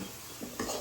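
Onions for a chicken dum biryani frying in oil, a brief close sizzle with a faint stir or scrape near the end.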